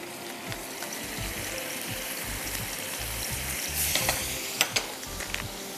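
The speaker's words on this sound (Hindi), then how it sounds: "सबसे पहले आप थोड़े से तेल में अदरक लहसुन का पेस्ट डाल दीजिए और ये मसाला" Ginger garlic paste and masala frying in a little oil, a steady close sizzle with stirring scrapes and a few sharper crackles near the end; no talking.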